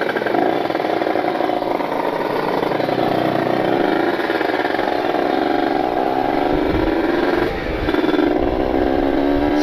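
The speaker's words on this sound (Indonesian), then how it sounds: "Sambil ngetes settingan ini motor, saya naikin lagi mindjetnya ke 145 biar bisa tenang kalau speedingan ya." A Kawasaki Ninja two-stroke motorcycle rides along a busy road, its engine buzzing close and loud with rising and falling revs, briefly dipping as the throttle eases before pulling again.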